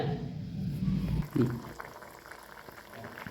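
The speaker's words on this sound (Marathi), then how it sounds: "भाजीला आपलं छान अशी उकळी फुटलंय" A pot of rajma curry bubbles at a boil, thick gurgling pops close by, loudest near the start and then settling to a quieter simmer.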